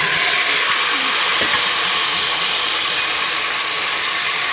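Spiced greens rubbed with salt and turmeric hitting hot oil for a Sindhi palak dish, giving a steady, loud broadband sizzle and hiss that holds evenly throughout with no talk over it.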